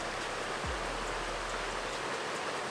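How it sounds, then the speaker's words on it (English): A small stream running beside a campsite near Aspen, Colorado makes a constant, fairly loud hiss of flowing water, broad and even throughout, with a brief low thump partway through. "we're right next to like a little stream river, which will actually be really, really nice"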